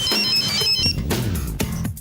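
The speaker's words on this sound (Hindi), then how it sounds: "जरा भानु के नंबर पर फोन लगाओ।" A phone ringtone plays during a call in a Hindi-dubbed film scene: a bright, repeating electronic melody sounds loudly for about the first second, followed by muffled background sounds.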